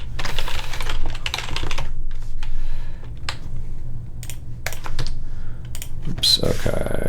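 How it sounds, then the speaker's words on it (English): Rapid typing on a computer keyboard while writing code, a steady run of close key clicks with a few sharper taps and brief pauses, over a low room hum. "I was too busy typing"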